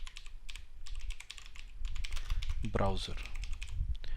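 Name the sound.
typing on a computer keyboard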